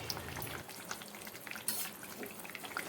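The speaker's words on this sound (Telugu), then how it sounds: "ఇలా మధ్య మధ్యలో కలుపుతూ అడుగంటకుండా ఉడికించుకోండి." Sweet dough is stirred in a bowl set on a plate over a gas stove, giving faint, close scraping and soft sizzling textures that continue without speech.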